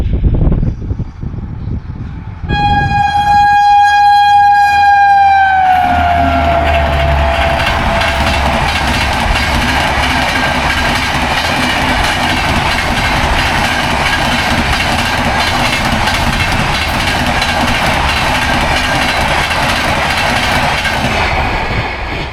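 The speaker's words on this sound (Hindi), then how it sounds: "तो भाई ये तड़क तड़क करते हुए निकल गई अपनी 12181 जबलपुर अजमेर दयोदय एक्सप्रेस" A 12181 Jabalpur-Ajmer Dayodaya Express passes a level crossing at Arnetha. A loud horn blares first, then a steady, close rush of wheels clattering over rails fills the rest of the pass.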